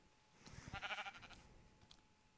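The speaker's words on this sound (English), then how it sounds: "There's a sheep stuck in the water." Sheep in Minecraft bleat once in a short, quavering, faint call, a single wavering cry that trails off quietly with nothing else around it.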